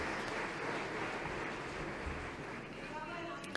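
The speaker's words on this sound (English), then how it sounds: "A big round of applause for Batera." An audience at a mobility awards ceremony breaks into steady, faint applause that stays even for a few seconds, with the clapping sounding distant and diffuse.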